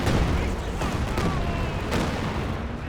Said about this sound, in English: Katyushas now, I think, onto this machine gun